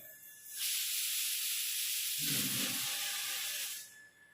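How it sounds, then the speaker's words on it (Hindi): A pressure cooker releases steam in a loud, steady hiss that rises in, holds for about three seconds with a brief rougher gush midway, then tapers off, with no voices over it. "थोड़ा सा कुकर का सीटी दिया"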